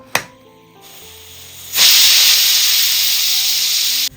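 A sharp click, then a loud, steady jet of steam hisses for over two seconds before cutting off abruptly, a pressure cooker whistle releasing while cooking onions.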